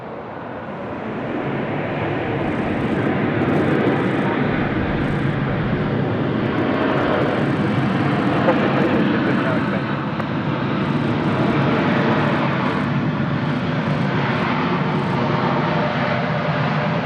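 Airplane engines roar steadily at Sydney Airport, a loud, broad, sustained rumble and whine that swells slightly and holds for the whole stretch, with no talking.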